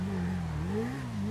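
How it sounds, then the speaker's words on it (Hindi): A motorbike engine in the GTA V video game revs up and down in a garage, with its pitch rising and falling over a steady mid-level drone. "बाइक तो रखते हैं सीधे गैरेज में"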